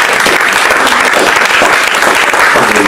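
A church congregation in Gisors, Normandy breaks into loud, dense, continuous applause that fills the whole short stretch, close and steady without pause.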